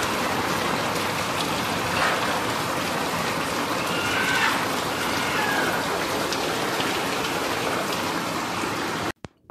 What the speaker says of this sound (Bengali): বাপরে, বৃষ্টিটা বাড়লো, দেখুন কি জোরে বৃষ্টি পড়ছে